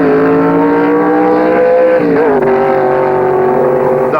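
Loud 1963 drag race cars running a heat, a sustained roaring engine drone with a brief dip and shift midway, filling the whole clip with no talk.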